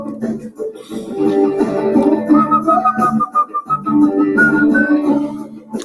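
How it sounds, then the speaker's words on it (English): A person whistles a melody, with steady, clear pitched notes rising and falling over several seconds, close and fairly loud. "I shouldn't whistle, right?"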